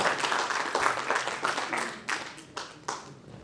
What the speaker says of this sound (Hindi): आप उनके लिए तालियों से उनका स्वागत करें